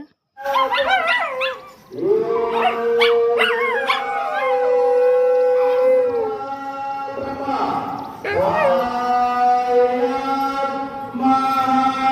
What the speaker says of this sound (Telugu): కుక్కలు కూడాను అవి కూడా పాడుతాయి అనమాట